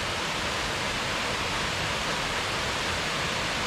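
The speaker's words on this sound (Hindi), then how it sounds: "मैं वापस आ गया हूँ वाटरफॉल के पास" Waterfall in a Cameron Highlands forest, a steady, close rushing roar of falling water that stays even and unbroken throughout, with no voices.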